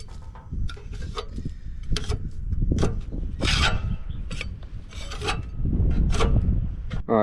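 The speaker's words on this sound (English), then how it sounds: "I'm gonna go ahead and use this old putty knife real quick." An old putty knife scrapes hard on a mower part in short, rough rasping strokes with brief pauses between them, close and loud, with no talk over it.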